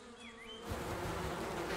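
Bees buzz at a beehive, a dense, continuous swarm hum that swells in after a quieter start and holds steady, close and full.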